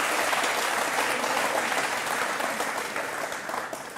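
Sustained audience applause fills an interview-show studio, dense and steady throughout with no speech, tapering slightly toward the end.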